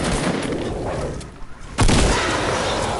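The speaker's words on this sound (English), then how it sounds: "I'm pretty sure people are shooting." Distant gunfire in Fortnite's zombie mode, a low crackling rumble of shots with one sharp louder burst near the end, heard amid steady game ambience.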